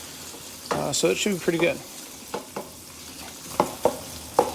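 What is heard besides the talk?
cabbage and pork chops frying in a pan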